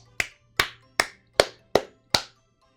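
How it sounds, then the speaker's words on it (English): Six sharp hand claps at a steady, unhurried pace, each trailing a short echo as it rings off the walls of an enclosed room; no voices. "I can hear the echo of the clap"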